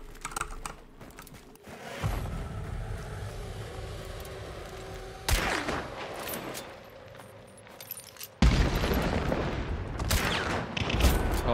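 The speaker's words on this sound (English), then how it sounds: "Blowing up this red barrel." A red barrel explodes in a first-person video game amid gunfire, heard as sharp, loud bursts of noise cutting through a busy crackle of game action. A final blast lands near the end.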